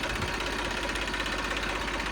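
An Eicher 380 tractor engine runs steadily in a self-start condition with no faults, a continuous close, loud mechanical drone with fast knocking pulses throughout.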